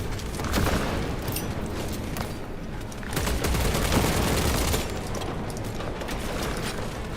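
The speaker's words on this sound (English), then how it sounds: "Using crack grenade." A dense, continuous roar of gunfire and explosions comes from a video game, including a crack grenade. The heavy battle noise swells at times and carries almost no talk.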